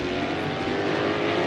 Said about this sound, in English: And you can hear its Can-Am roots as it thunders away. Those big block Chevy engines.